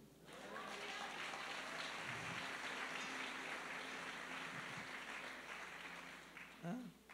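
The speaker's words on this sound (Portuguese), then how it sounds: "você pode aplaudir ao Senhor?" Church congregation applauding the Lord during a bishop's sermon, steady sustained clapping from a large room heard at low level throughout, with a brief voice near the end.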